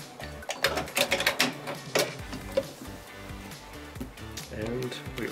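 A sewing machine stitches along a quilt seam and back-stitches at the end, giving bursts of rapid mechanical clatter close by with short pauses between runs, and a voice talks over it.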